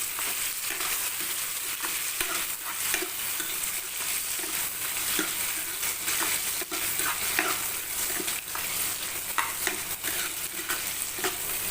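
Small onions (shallots) sautéing in a pan for a brinjal kadayal: a continuous close sizzle with rapid, regular stirring scrapes throughout and no speech.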